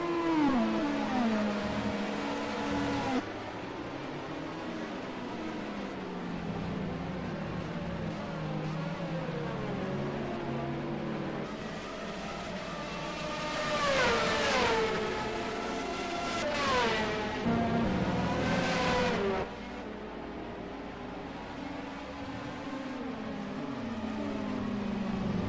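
Super GT 500 race cars, including a Toyota Supra, racing at Okayama, their engines rising and falling in pitch as several cars pass, loudest in the middle, with a steady roar throughout.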